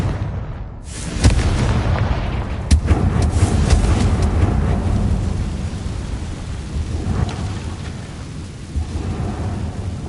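A Confringo blasting spell explodes in a Harry Potter video game: a heavy rumbling boom with sharp cracking bursts, followed by a long rolling roar that slowly fades.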